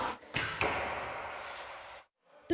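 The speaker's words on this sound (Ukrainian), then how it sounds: "Наскільки вправно вінницькі ветерани стріляють з лука" Arrow released from a bow at archery practice with a sharp snap and whoosh, followed by a quick thud and a quiet pause, then another faint strike.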